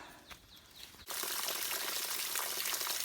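Water pouring and trickling steadily at a mountain trail water source on the Appalachian Trail, a loud continuous splashing that starts abruptly after a quieter outdoor stretch.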